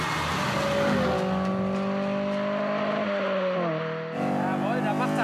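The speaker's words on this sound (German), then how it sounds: "Der Mini brüllt sich die Seele aus dem Leib." A classic Mini fitted with a Honda engine accelerates hard, its engine roaring loud and close. The pitch climbs through the gears with a brief dip at a shift, and a narrator speaks over the sound.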